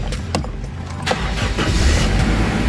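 Engine of a 2001 first-generation Honda CR-V RD1 being started: a short cranking burst, then the motor catches and settles into a steady, close idle hum.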